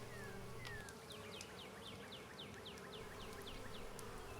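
Honeybees buzz around the entrance of a hive on a warm spring day, a steady close hum with individual bees swooping past in quick rising and falling passes.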